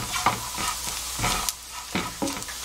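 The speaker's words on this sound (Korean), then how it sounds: "자, 전체적으로 약간 노릇할 때까지 볶아주겠습니다" Dried young hairtail fish crackle and sizzle steadily while stir-frying in a pan, with repeated scraping strokes of a spatula pushing the pieces around, close and alone.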